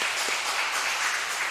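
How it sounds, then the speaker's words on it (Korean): A church congregation applauds together in a steady, dense wash of clapping that fills the space evenly from start to finish, with no voices rising above it. "다시 한번 우리 문 장로님 박수해 주세요."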